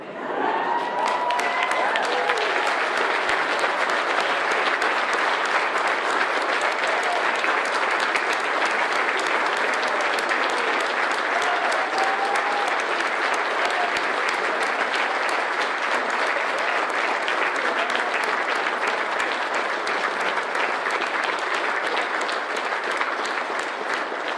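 A large crowd gives a standing ovation at a live donation announcement event, sustained loud applause with some cheering filling the whole span without a break.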